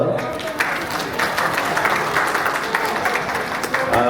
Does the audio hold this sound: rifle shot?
no